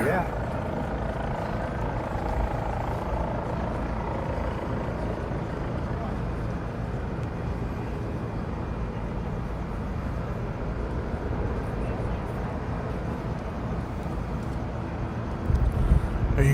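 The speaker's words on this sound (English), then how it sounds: "Helicopters leaving." Helicopters leaving a scene make a steady, muffled rotor rumble at middling distance, a constant drone mixed with wind that holds level for the whole stretch.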